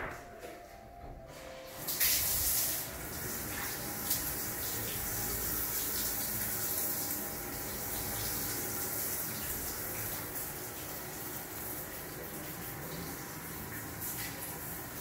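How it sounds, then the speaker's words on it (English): Hose water spraying and rinsing a glass shower enclosure, a steady soft rushing splash that continues throughout at moderate distance. "you take the hose and you rinse it."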